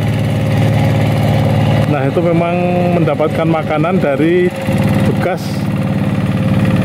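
A tractor engine idles near a newly built roadside stretch of the JJLS coastal road near Yogyakarta, a steady low rumbling drone running throughout beneath someone talking close by.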